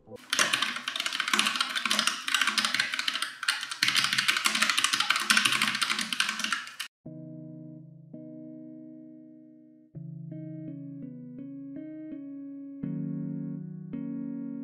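Rapid, dense clacking from a Keychron K3 mechanical keyboard during typing for about seven seconds, followed by sustained electronic tones.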